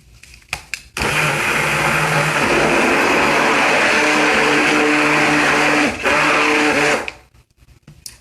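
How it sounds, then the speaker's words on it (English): A stick blender whirs into oils and lye for an apple cider vinegar shampoo bar, starting abruptly, running as a steady loud motor drone for about six seconds, then cutting off with faint handling noises around it. "With the stick blender, like that."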